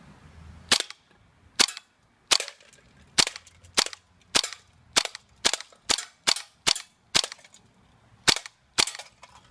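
A GHK gas blowback airsoft gun fires about fifteen sharp, loud cracks at a can, spaced in a steady, slightly irregular rhythm with brief quiet gaps between shots and no talking.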